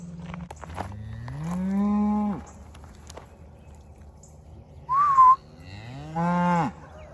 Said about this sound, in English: These cows are not used to people.